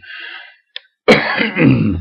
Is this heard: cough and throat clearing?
yes